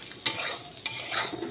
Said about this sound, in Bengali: সেই কড়াইটাতে আমি আবার উচ্ছে আলু ভাজা বসিয়েছি